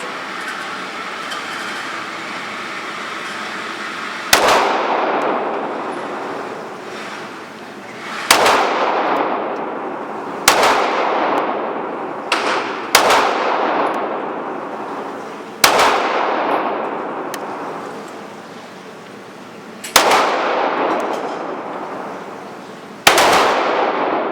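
Ten sharp gunshots from an HK VP9 pistol at a shooting range, loud and close, fired singly at irregular gaps of a few seconds, each followed by a ringing decay.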